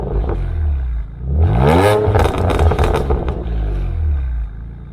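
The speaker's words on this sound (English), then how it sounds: "Some custom type of exhaust. I'm not sure what it is yet. It sounds really nice." A car engine breathing through a custom aftermarket exhaust revs up hard with a rising, crackling roar, holds briefly, then settles back toward idle, loud and close with no talk.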